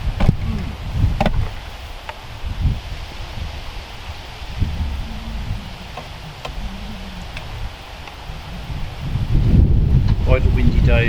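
Steady outdoor wind buffeting a microphone beside a fishing lake at Brehal, Normandy, low rumbling gusts that swell louder near the end, with a few faint ticks.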